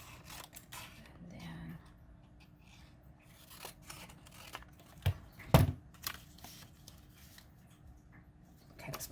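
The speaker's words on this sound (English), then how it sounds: "Let's cut straight across there." Scissors snipping through paper nearby, scattered soft crisp cuts and rustling with one louder snip near the middle, faint overall against a quiet room.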